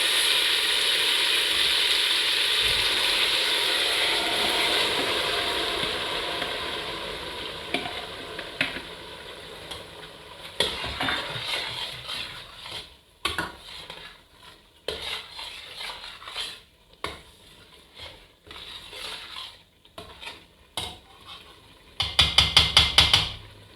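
A spoon stirs brown beans porridge in a pot with sauteed onions and pepper mix. A steady simmering hiss comes first, then a burst of irregular scrapes and knocks against the pot, growing busier toward the end.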